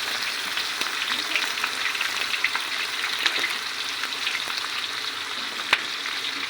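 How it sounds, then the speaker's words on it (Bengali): Onion sizzles and fries for mung dal in a cook's pot while preparing an iftar meal, a steady, close crackling hiss with occasional sharper pops. "আমরা একটা ডাউল হবে মুগের পেঁয়াজ দিয়ে দিচ্ছি।"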